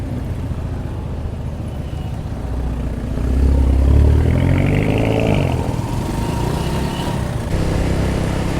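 A Victory Venom 18 semi-sport motorcycle ridden with a passenger, steady engine drone with wind rumble, swelling louder midway as it pulls along a bumpy road.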